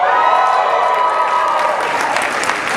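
Georgetown Law class of 2007 graduates cheering and applauding at their graduation ceremony, a loud, sustained wash of clapping, shouts and whoops from a large crowd.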